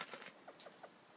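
A male grouse in Canada gives a quick run of soft clucking and chirping notes, several short calls spaced over about a second, heard close and fairly faint.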